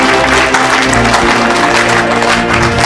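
A church congregation claps and cheers loudly together during lively worship, with steady, dense applause filling the room throughout.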